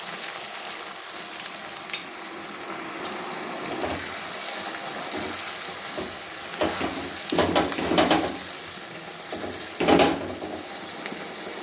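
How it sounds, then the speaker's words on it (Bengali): Vegetable curry of potato, pointed gourd, soy chunks and chickpeas being stirred in a pan after water is added, with steady sizzling and frying hiss, scraping stir strokes and a few louder clinks and splashes around the middle. "আর একটু আমি জল দিয়ে আর একটু নাড়াচাড়া করে নেব"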